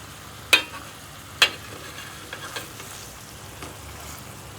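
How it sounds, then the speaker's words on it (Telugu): Chicken leg pieces cooking in masala in a pan give a low steady sizzle, broken by two sharp clinks of a utensil early on and a few softer stirring taps afterward. "పీస్లు అయితే ఉడుకుతున్నాయి."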